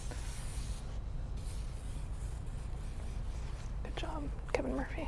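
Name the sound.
texture spray being sprayed onto hair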